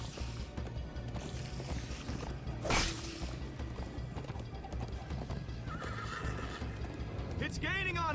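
A horse in the Minecraft Story Mode video game gallops with continuous clip-clopping hooves, then lets out a loud whinny near the end, with a whoosh partway through and voices talking over the action.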